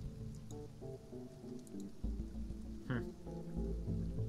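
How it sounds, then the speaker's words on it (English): Rain falling on a shelter in the survival game Sheltered, a soft steady patter with occasional drips and faint thuds, quiet and low in level. "Hope this rain goes on for a little bit longer."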